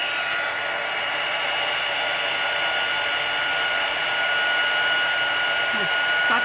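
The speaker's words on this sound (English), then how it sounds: "I'm bringing in my heat tool, which does make a bit of noise" An embossing heat gun blows a steady, even airy whoosh for several seconds, close and continuous, used while gold embossing powder is heated on a Valentine's card.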